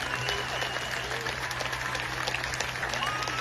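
Crowd at a vigil at the London Mosque applauds as Jagmeet Singh steps up to the podium: continuous dense clapping over a low steady hum, heard on its own without talk.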